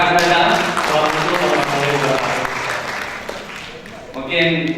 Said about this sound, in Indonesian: Oke, terima kasih Mas Faisal, tepuk tangan untuk Mas Faisal.